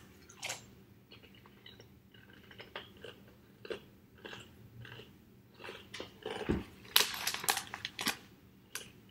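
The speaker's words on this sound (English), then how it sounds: "Crunching so loud." Loud, close crunching of someone eating snack foods from Denmark, irregular crisp bites and chewing bursts with quieter pauses and soft breathing between them.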